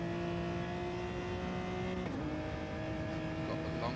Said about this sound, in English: Got a high-pitched engine note as well.